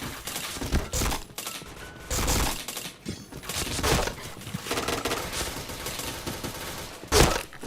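Repeated gunfire bursts in the shooter game Point Blank, loud and close, coming in uneven clusters with short gaps and a sharp burst near the end, with no talking over it.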